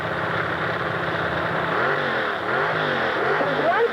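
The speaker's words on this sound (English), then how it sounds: "He's driving the dragster you see here." A 1977 dragster powered by a 355 Chevy engine races down the drag strip, its loud engine droning steadily and then rising in repeated revving sweeps as it accelerates, with faint talk in the background.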